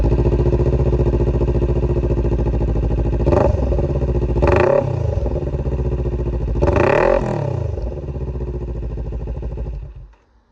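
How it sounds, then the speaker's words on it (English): A Kawasaki Ninja 400 motorcycle with a new exhaust and the baffle removed idles loudly and close by. It revs sharply three times, then settles and cuts off near the end. "I'm going to let you guys hear the new exhaust with no baffle."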